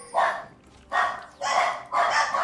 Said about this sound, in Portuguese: a cachorrada tá como ali? Tá tendo briga ali.